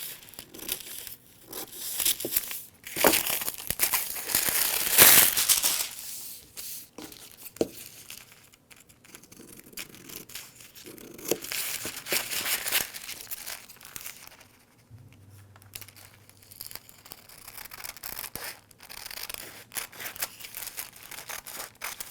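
Sheets of tracing paper crinkle and rustle while being handled during sewing pattern drafting, with irregular bursts of crumpling and tearing-like sounds, one sharp loud crackle, and quieter stretches between, close up with no talking.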